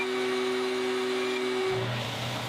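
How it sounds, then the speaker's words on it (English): A belt sander flattens the edges of a wooden spatula, giving a loud, steady whine and hum close by that drops lower near the end as the load changes, with no one talking. "I'm going to use this belt sander to flatten the edges"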